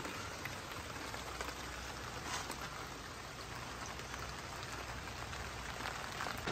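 Steady rain patters on a surface, an even hiss of many drops continuing throughout, soft and with no voices.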